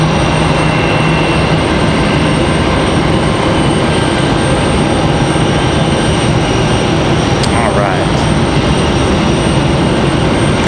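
A Copa Airlines airliner taxis toward its gate at Raleigh-Durham International Airport, its engines a steady, loud broadband roar with a sustained whine that holds throughout.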